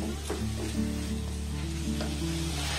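Spiced ingredients with nigella seeds and salt being stirred in a frying pan, a steady sizzle with a low continuous hum and a few soft scraping strokes.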